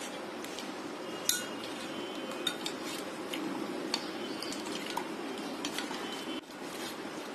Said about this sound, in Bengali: দিয়ে একটা চামচ দিয়ে কতক্ষণ নেড়ে চেড়ে নিলেই দেখবেন চকলেটটা গলে যাবে।